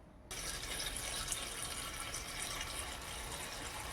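Water pours and splashes steadily as greens are rinsed by hand in a kitchen before being cooked and mashed, a continuous close wash of running, sloshing water that starts abruptly and carries on without a break.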